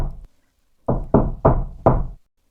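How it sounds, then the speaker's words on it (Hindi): Knocks on a door: one soft tap, a short pause, then four firm, evenly spaced knocks close by, with silence in between. "तभी दरवाजे पर दस्तक हुई।"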